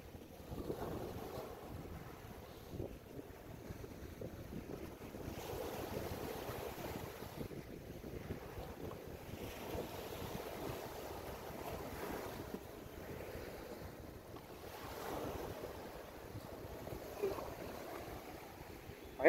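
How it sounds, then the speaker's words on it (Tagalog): Strong waves wash against the dolomite beach on Manila Bay, a rolling surf roar under heavy wind buffeting the microphone, steady and moderately loud, with no talk. "kalakas ng alon ngayon"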